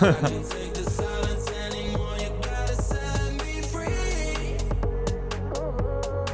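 Tech house kick drums punch a steady low thump under a dense mix of layered synth tones and percussion. The groove runs continuously and loud, ending in a series of bright, evenly spaced hits, with no talking.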